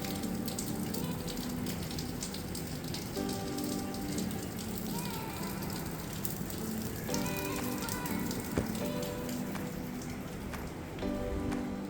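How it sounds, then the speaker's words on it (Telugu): Heavy rain pours steadily in Goa, a dense, continuous patter on surfaces that persists throughout, with some faint tonal background sounds mixed in. "వర్షం మాత్రం పొట్టు పడుతుంది."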